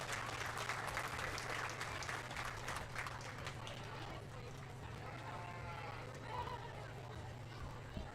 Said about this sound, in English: Let's give all of our Peewees a nice round of applause as they get out.